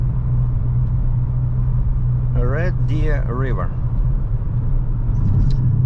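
A turbocharged four-cylinder car cruising on the road, its steady engine drone and road rumble continuing unbroken throughout while a person talks briefly over it in the middle.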